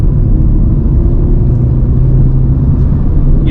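Renault Clio E-Tech full hybrid under full-throttle acceleration from inside the cabin, a loud, steady low engine drone and rumble that holds evenly throughout, with no talk.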